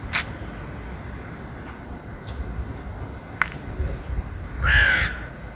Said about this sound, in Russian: первый раз птицу слышу. И это птица-ворона.